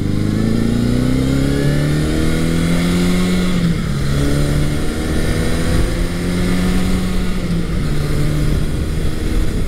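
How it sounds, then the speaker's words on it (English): A Honda CB750 motorcycle accelerating through the gears on back roads, a loud close engine drone rising in pitch, dropping at each shift and climbing again, with wind rush over it. "So we'll go up through the gears here and just see I'll take it on some back roads"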